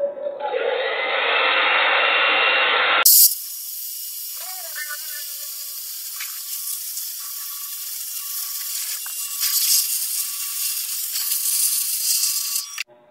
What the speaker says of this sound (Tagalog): Ipagay mo yung blower sa bahay nyo.